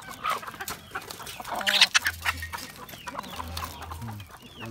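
Rhode Island chickens clucking on a hot day, several birds making soft, irregular clucks and a few sharper calls close by, with other fowl and farm noise in the background.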